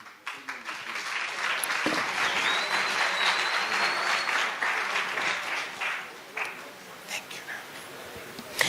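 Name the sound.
audience applause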